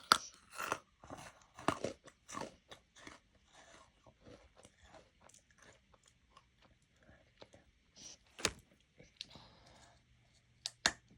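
Someone crunching and chewing a hard snack close to the microphone, with a series of sharp, irregular crunches that are loud at first, then quieter chewing and occasional louder bites later.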